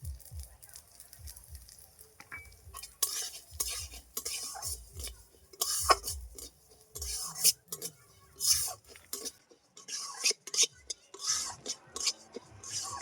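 Washed, sun-dried Gobindobhog rice tossed in hot ghee: intermittent metallic scraping and stirring clatter over a faint crackling sizzle, with uneven bursts and quiet gaps.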